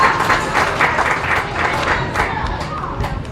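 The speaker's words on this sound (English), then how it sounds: "Let's give her a round of applause." A crowd applauds steadily at a county fair swine show. The clapping is loud and sustained throughout, with a voice talking faintly underneath.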